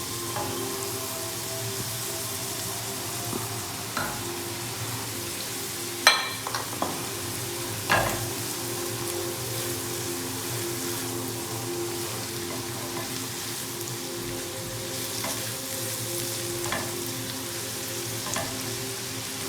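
Onion and scallion greens sautéing in a pan make a steady, soft sizzle that runs throughout, with a few sharper clicks and scrapes of stirring around the middle and no talk.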